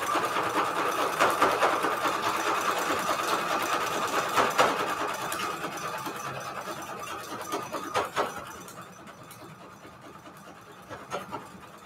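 A sewing machine runs steadily, stitching lines across a patchwork fabric cover for a junk journal: a close, continuous mechanical whir with slight pulsing and a few brief pauses and restarts.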